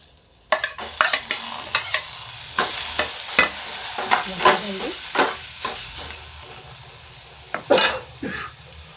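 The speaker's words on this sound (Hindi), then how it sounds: "अब इस प्याज को पका लेंगे।" Onions cook in a little oil for arhar and masoor dal, with a steady sizzle under repeated sharp scrapes and clinks of a spoon against the pan.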